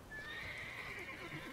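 A horse neighs in The Witcher 3, one sustained, high whinny that holds steady and close for its whole length with no talk over it.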